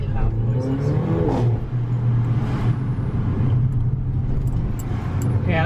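A Mercedes CLA 45 AMG with a performance exhaust in Sport Plus manual mode rumbles loudly and steadily, with engine revs swelling under continuous talk.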